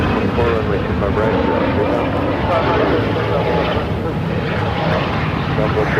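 A Southwest airliner arrives at Phoenix airport, its jet engines a loud, steady roar that holds for several seconds, with voices talking beneath it.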